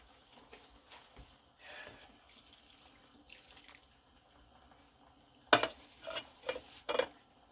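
Tap water running into a cooking pot of bouillon and hamburger meat for a one-pot meal, a soft steady pour with light stirring and clinks, then several louder splashy bursts near the end.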